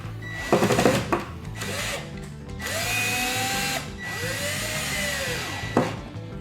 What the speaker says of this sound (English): then you tighten down your screws